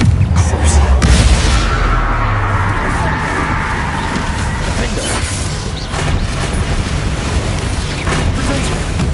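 Explosion spells from the Hogwarts Legacy video game boom and crash repeatedly in a dense, loud wash of blasts and mechanical rumble, with a voice casting spells over the din.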